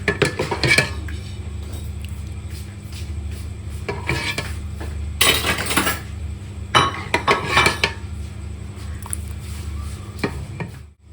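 Cooked tori dal is served into a clay bowl. Close clinks and clatters of utensils and dishes come in several bursts over a low, steady background, with scraping between them and no speech.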